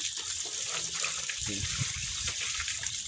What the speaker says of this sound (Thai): แล้วก็ล้างรถรักษาความสะอาด